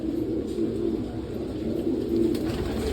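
Racing pigeons cooing inside a loft, soft low repeated coos overlapping steadily and close by, with no talk.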